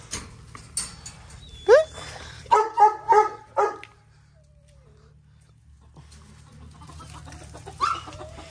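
Puppies bark in a quick cluster of several short, sharp yelps at moderate distance, preceded by a rising bird-like call, over a steady background hiss of rain.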